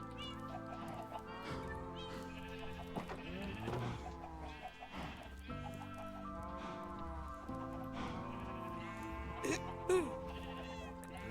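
Sheep bleat repeatedly in a Minecraft-style video game farm, with cow and chicken sounds mixed in, over steady background game music, continuous and moderately loud without speech.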